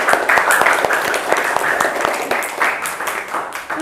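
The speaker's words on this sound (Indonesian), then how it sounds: "Tepuk tangan untuk Rini." Students in a classroom applaud one of their classmates, giving dense, steady clapping from a group nearby for several seconds that thins slightly toward the end, with voices mixed in.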